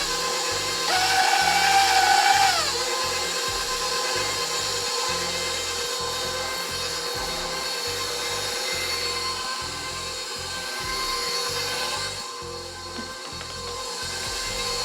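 An electric hand mixer runs steadily at medium speed through harvest cake batter, with a continuous buzzing whir and rhythmic rattling of the beaters in the bowl, a louder scraping burst near the start.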